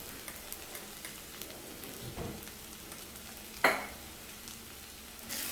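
A spatula stirs turmeric and garam masala into softened onion in a pan for a spinach bhaji with drumsticks, giving a quiet, low sizzle broken by one sharp scrape near the end.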